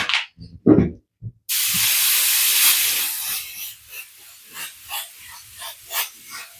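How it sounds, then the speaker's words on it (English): Spray adhesive misted from a can onto an automotive panel before gold leafing, a steady close hiss lasting about two seconds, preceded by faint handling knocks and fading into softer bursty sputters. "Start spraying some glue on."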